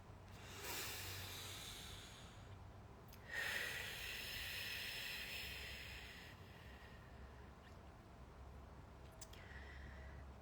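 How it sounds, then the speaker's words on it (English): A slow, deep breath taken during a guided breathing session: a long, soft airy inhale followed by a longer exhale, close and steady, with no talking. "So let's take a deep breath."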